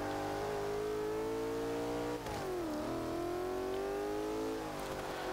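A 2000 BMW Z8 engine in the Forza 5 racing game revs hard and steadily, its harmonic tone climbing and dipping through shifts, loud and continuous with no talk.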